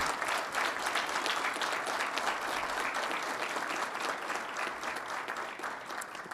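Sustained audience applause fills a solemn ceremony conferring honorary Campinas citizenship, a dense, steady clatter of many hands clapping close by with no voices over it.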